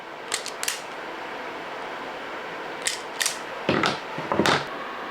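Wire strippers take the insulation off the red and black ends of a 12-volt cable, making a few short crisp snipping and pulling sounds in small bursts, close up over a steady background hum, with no speech.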